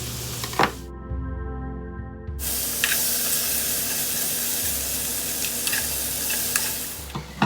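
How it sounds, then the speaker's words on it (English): Beef browns in a hot pan, giving a loud, close, continuous sizzling hiss with occasional sharp spits and crackles, broken by a short lull where a low hum shows through before the frying resumes. "I'm just going to take the meat and just brown it all up"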